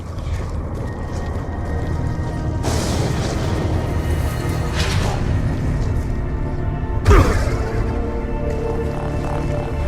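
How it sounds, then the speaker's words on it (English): A loud explosion blasts out in the Origins zombies map, a sharp boom about two-thirds through over a constant roar of game noise and clatter, with earlier crashing bursts. "That's what I call an explosion."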